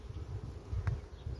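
Honeybees buzz at an open hive in a colony recovering from chalkbrood after requeening, a faint, low, steady hum heard briefly and close.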